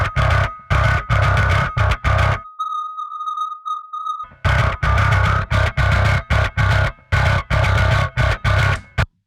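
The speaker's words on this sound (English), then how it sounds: "And I'll add the distortion." Loud, heavily distorted bass guitar notes hammer in a choppy rhythm, break for a few seconds to a single sustained tone, then resume with the same gritty attack.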